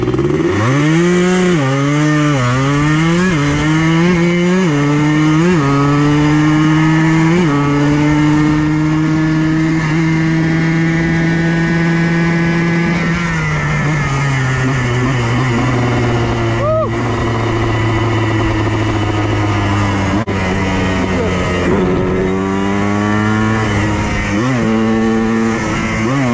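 Two dirt bikes, a Yamaha Blaster 200 and a Gas Gas 250 EC, rev loudly and accelerate up through the gears, engine pitch climbing and dropping with each shift in a steady, close, unbroken roar.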